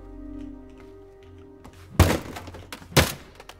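A hammer smashing through a structure in the video game Teardown, two loud separate crashing impacts about a second apart, each with a short breaking tail over a low background hum.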